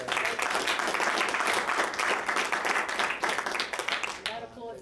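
Applause and clapping fill a council meeting chamber, steady and fairly loud for several seconds before tapering off at the end.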